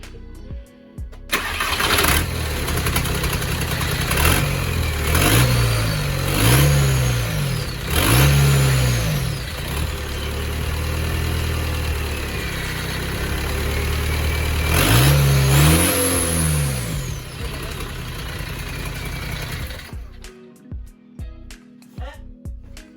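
A Volkswagen Golf 4 engine cranks and fires, then settles into a loud idle broken by several sharp revs that rise and fall before cutting off near the end.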